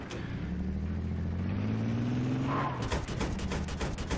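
A vehicle engine in Battlefield 3 revs and rises steadily in pitch, then gives way to a burst of clattering gunfire and impacts near the end, loud and close throughout.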